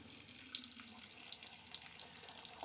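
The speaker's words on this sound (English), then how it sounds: "I'm just going to trickle in some water." Water trickles steadily from a tap while shaving lather is worked up, a soft continuous hissing splash heard close and alone.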